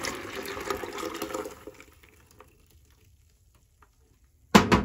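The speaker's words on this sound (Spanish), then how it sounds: "Antes de ponerla en la jarra, la voy a colar primero." Blended banana tres leches horchata with rice is poured through a strainer toward a pitcher, a close liquid rush and trickle for under two seconds that fades to near silence, then a sudden loud splash at the end.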